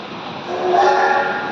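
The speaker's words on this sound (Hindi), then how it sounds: "जैसे ही ट्रेन की सीटी की आवाज आई" Steam-era passenger train rolling along the line on the way to Kakori station, a steady rumbling run with a brighter whistle-like tone swelling in the middle and easing off, alone without voices.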